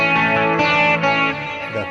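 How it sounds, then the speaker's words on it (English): Electric guitar played through a Fractal Axe-FX III with trailing delay and reverb, a loud sustained distorted chord ringing out with effects-laden echoes and no talking. "you can hear the trailing delay, you can hear the reverb"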